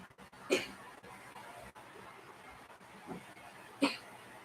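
A child coughs twice, short dry bursts about three seconds apart, moderately close over a steady low background hiss.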